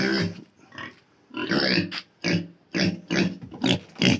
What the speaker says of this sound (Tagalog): Ito yung anak ng baboy na binigay